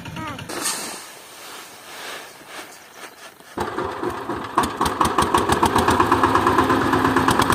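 After quiet talk, a farm tractor engine clatters to life and settles into a loud, steady chugging idle close by, during monsoon sowing season in Konkan.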